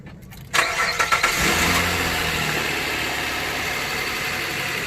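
A 2004 Nissan Quest minivan engine cranks and catches after a quiet moment, then settles into a steady, close idle with a broad running hum and no voices.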